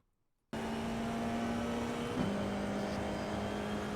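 An FIA F4 open-wheel race car engine in iRacing drones at steady high revs on a hot lap around Laguna Seca, a loud constant tone that briefly dips with a gear change and carries on alone.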